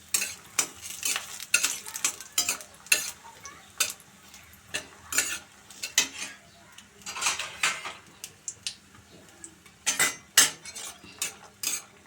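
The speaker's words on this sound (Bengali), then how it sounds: "বড়িগুলো ভেজে বড়িগুলো তুলে নিচ্ছি" Bori lentil dumplings fried in oil and lifted out, a series of close metallic clinks and scrapes of a ladle against the pan over a faint sizzle, irregular and spaced, no talk.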